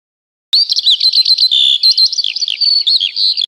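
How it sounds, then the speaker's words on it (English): Cartoon lark calling in a children's educational game, a bright, loud run of quick chirps and warbling trills that starts abruptly and carries on without a break, alone and up close. "Lark."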